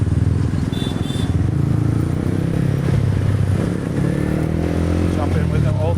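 Dense city traffic in Saigon, Vietnam: a steady, close roar of motorbikes and car engines with rattling clatter, rising revs and continuous road rumble throughout.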